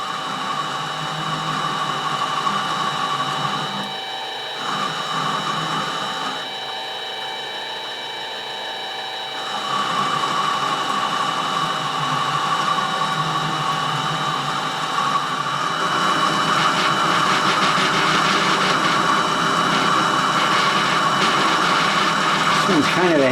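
Mini lathe turning a taper on a B3 pellet gun part, a steady whining hum with tonal ringing that dips briefly twice and then grows harsher as the cut deepens, with a person talking over it.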